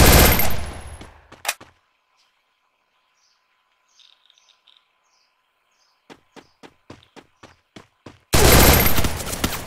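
Free Fire video game gunfire: a loud burst opens, then quiet with faint chirps, then a rapid series of single sharp shots before another loud burst of fire.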